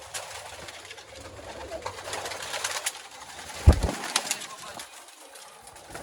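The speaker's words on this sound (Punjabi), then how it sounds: "ਬਹੁਤ ਹੀ ਯੂਨੀਕ ਕਬੂਤਰ ਹੈ ਇਹ" Pigeons at a bird market in Malerkotla, Punjab, with soft cooing and scattered calls over a busy background hum, plus a sharp nearby thump or flutter midway.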